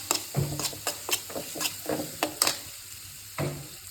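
A mango pickle mixture with curry leaves is stirred in a pan, a run of crisp, rhythmic scraping strokes over a light sizzle, close and clear with a brief pause near the end.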